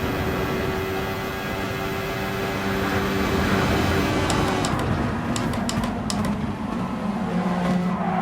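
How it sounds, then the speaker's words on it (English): Race car engine at speed in a motorsport game, a steady loud drone with tonal whine rising in pitch, turbo spooling on the throttle, plus brief sharp clicks toward the end. "You can hear the turbo spooling."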